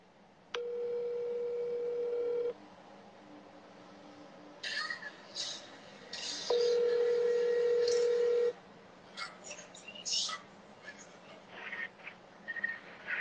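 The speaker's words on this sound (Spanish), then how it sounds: "Déjame llamarla de mi teléfono." A telephone gives two long steady tones separated by a pause, followed by bursts of short dialing beeps, clear and close with quiet gaps between.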